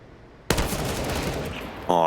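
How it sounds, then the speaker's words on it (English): Gunfire from a Counter-Strike: Global Offensive match on the Vertigo map, played in a DreamHack Open semifinal: after a quiet half-second, a loud dense burst of shots runs continuously, with a sharp tonal hit near the end. "Oh, Nekis with the headshot, Marky down"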